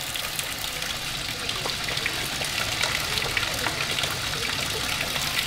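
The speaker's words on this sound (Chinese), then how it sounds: "突然间流水" Water suddenly pours and trickles in a temple water-curtain cave, a steady bright splashing and dribbling that fills the whole stretch at close range with no voices over it.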